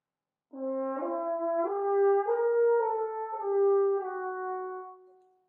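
A solo French horn plays a measure of an etude fully slurred, a smooth legato line of connected notes with no breaks, moderately quiet and alone.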